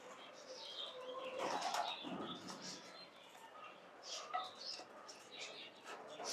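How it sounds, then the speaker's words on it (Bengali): Caged Maltese pigeons on a farm flap their wings in a few short fluttering bursts, with soft cooing and rustling in the background, moderately faint. "পায়রাদের মধ্যে সব থেকে লম্বা পায়রা এই মাল্টিস, অনেকটাই লম্বা।"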